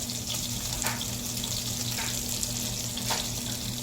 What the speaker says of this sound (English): My butter's all nice and hot in the pan.